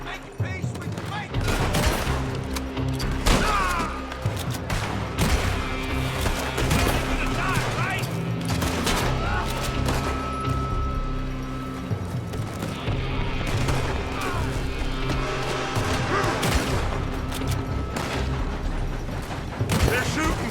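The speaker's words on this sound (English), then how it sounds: "They're shooting from that building." Sustained gunfire in the Western video game Red Dead Redemption 2: dense volleys of shots crack and boom almost nonstop for about twenty seconds, loud and continuous, with music and effects layered underneath.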